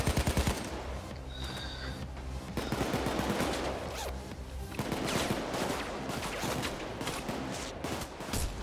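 Dense, continuous gunfire from enemies in the video game Payday 2, with rapid automatic bursts and overlapping shots throughout, loud and chaotic with no break.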